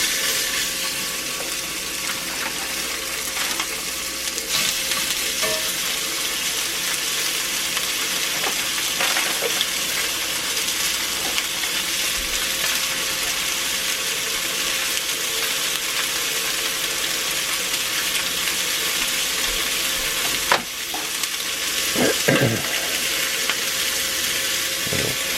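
Chicken sizzling steadily in a hot cast iron pan, a continuous close frying hiss with occasional brief clatter and stirring sounds near the end, no voices.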